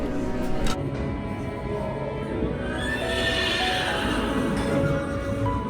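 A horse whinnies over a dense, noisy background, with a rising, drawn-out neigh standing out in the middle of the clip.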